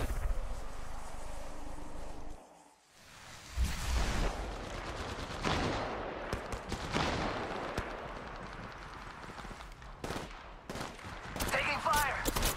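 Sharp bursts of gunfire crackle through a match of the battle royale shooter Apex Legends, dense and close, with a brief lull before rapid shots resume alongside clattering game effects.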